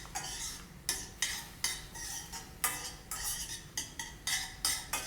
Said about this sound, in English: All right, let me stir this